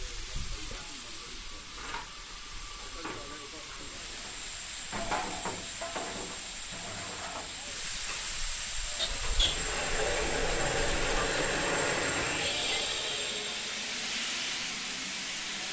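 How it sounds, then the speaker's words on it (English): Steam hisses from the steam heating pipe of a locomotive at a spring steam gala, a broad hiss that swells in the second half and stays loud, preceded by scattered clanks and mechanical noises. "There appears to be an excessive amount of steam escaping from the steam heating pipe."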